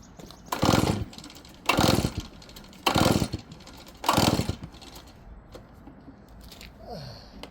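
Backpack leaf blower engine being pull-started at dusk before lawn aeration: four loud, evenly spaced recoil pulls with brief engine sputters, followed by a quieter idle-like hum.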